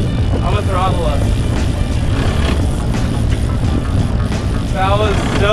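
A boat engine drones steadily while trolling for trout on Cachuma Lake, throttling up under excited voices talking and cheering over its running.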